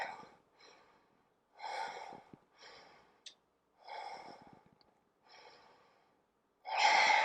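Breathing during a cardio power yoga flow: a series of audible inhales and exhales in an uneven rhythm, close and clear, with no speech over it.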